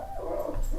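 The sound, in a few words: dog barking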